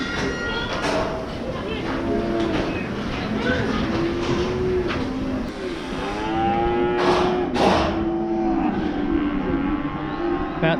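Cattle bellow and moo repeatedly at a busy auction sale yard holding thousands of head, the calls rising and overlapping across a constant livestock din, with a voice talking over them.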